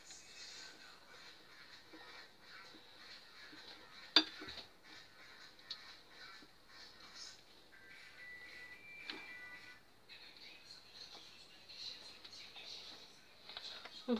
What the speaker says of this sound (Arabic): دابا غادي نبدا نضيف هذا الخليط ديال الابيض البيض غير بشويه، وانا كنحرك بحال هكايا